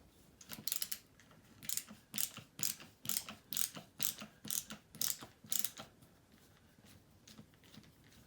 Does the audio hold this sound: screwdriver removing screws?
yes